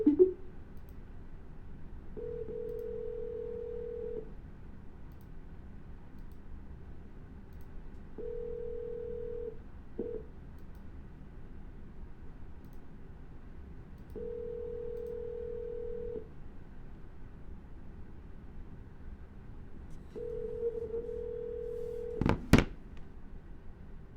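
A phone line rings out unanswered: evenly spaced single ringback tones with long pauses, quiet and steady, followed near the end by a couple of sharp clicks and a brief burst as the call is dropped and redialed.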